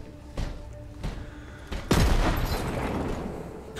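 Iron Bear, a mech in the Borderlands 3 video game, fires a few separate booming shots, then a loud explosion erupts near the two-second mark and rumbles on with crackling debris to the end.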